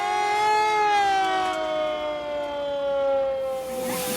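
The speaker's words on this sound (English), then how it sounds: "turning the air raid siren to signal the first gun firing of the day" A hand-cranked air raid siren at a steam railway's war weekend winds out a loud, steady wailing tone that slowly falls in pitch over a few seconds, heard close and alone.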